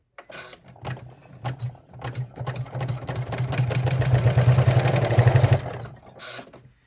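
An embroidery machine stitching through a thick purse flap chatters in a close, rapid mechanical rhythm that starts hesitantly with a few clunks, builds to a steady loud whir, then winds down and stops.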